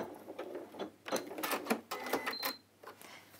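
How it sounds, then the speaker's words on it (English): A sewing machine runs a reverse stitch at the end of a seam, stitching in quick, rattling bursts with brief pauses between, fairly faint and close, with no talking. "So I get to the end and then I do a reverse stitch."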